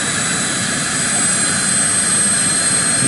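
The turbine engine of a Vario Bell 429 model helicopter roars steadily at close range, a dense rushing whine with a thin high-pitched whistle running throughout.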